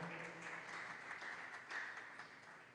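A church congregation claps together in a faint, distant wash of steady applause that holds at an even level throughout, with no voices over it.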